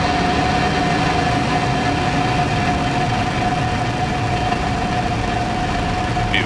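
SpaceX rocket engines at ignition and liftoff on an O3b mPower launch, a loud, unbroken rumbling roar that holds steady throughout, with no voices.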